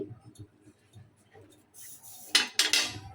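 A cake pan of fruit cake topped with raisins is set down onto a metal stand inside a pot on a stove, giving a couple of close, bright metallic clanks and scrapes after quiet kitchen shuffling.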